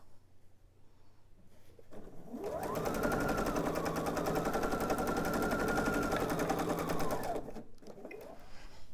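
A sewing machine runs one steady, fast, rattling seam for about five seconds, ramping up and slowing down, while joining pieced quilt blocks for a gazebo table topper, close and alone.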